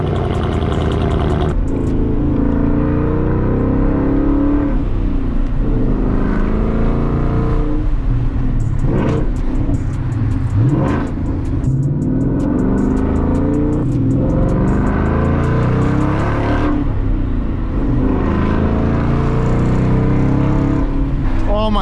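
A Ford Mustang GT 5.0 of the S550 generation with an aftermarket exhaust idles loudly after a cold start, a deep, steady, rumbling drone with slight swells. Someone talks intermittently over it.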